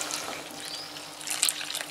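Warm water poured into a bowl of flour while mixing a stiff dough for potato dumplings, a soft, close splashing trickle with a brief brighter splash near the end, no talk.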